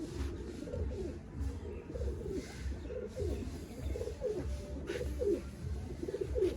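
Fakir gul pigeons, a male and female pair, cooing in soft repeated low rolling calls, close and steady throughout, with a faint hiss of background noise and no talk.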